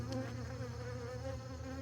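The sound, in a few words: bees buzzing in a hive frame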